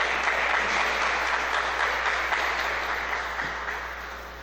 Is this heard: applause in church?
yes